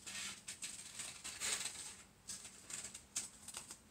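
Scissors snip through paper to cut out a small heart shape, giving a string of short, close crisp cuts with slight pauses between them.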